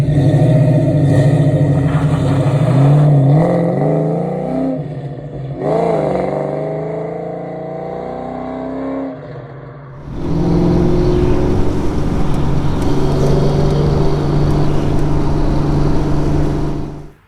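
A 1992 Ford Mustang 5.0 Fox Body notchback V8 revs and pulls away nearby, loud engine roar rising and falling in pitch, then a steady, gritty drone toward the end.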